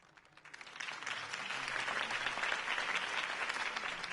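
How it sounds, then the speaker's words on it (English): Crowd applause at a campaign speech in the Batman Telltale video game, rising from quiet to a steady, full clapping that carries on through the clip without speech. "If only Mr. Wayne, my campaign's largest backer, could have heard that applause"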